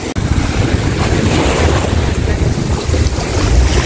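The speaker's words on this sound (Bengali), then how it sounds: "বোট চালাবো।" A motorboat runs over the sea off Maafushi in the Maldives, its engine drone blended with heavy wind buffeting and splashing waves, loud and continuous throughout.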